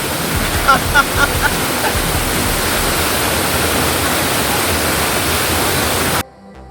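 Penfield Falls pours in a loud, steady, broadband rush of falling water that fills the scene without pause, with a few faint voices in the first second before the sound cuts off abruptly near the end.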